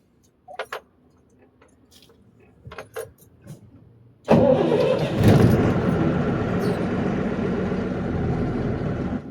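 Lorry engine starting: a few faint clicks and key jingles come first, then the engine cranks and catches into a loud, close, steady diesel-like rumble that keeps running.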